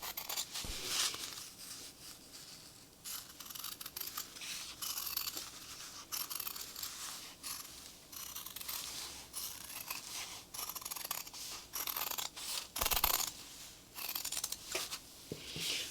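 Scissors cutting a piece of fabric for a mixed media animal portrait, a close series of crisp, rasping snips in an irregular rhythm that runs on for a while with no talking.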